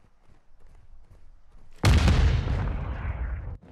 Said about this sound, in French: je crois que j'ai gardé la grenade un petit peu trop longtemps sur moi